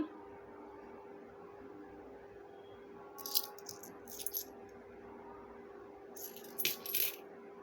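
Brass 5 rupee coins clink and rattle in two short bursts of handling, quiet and close against a steady background hum.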